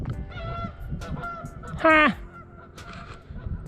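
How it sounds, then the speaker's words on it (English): Two geese near a tomato greenhouse give one loud, clear nasal honk at close range amid rustling and faint background noise, with a brief human exclamation in the clip. "Why do I hear geese?"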